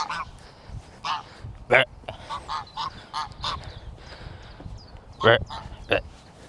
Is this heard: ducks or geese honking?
yes